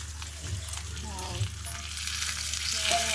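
Fish fries in hot oil, making a steady, close crackling sizzle that grows slightly louder over a few seconds, with faint background sounds and no clear talk.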